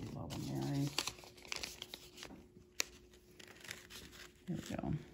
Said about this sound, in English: let me pull the paper here